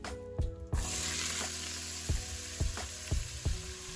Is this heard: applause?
no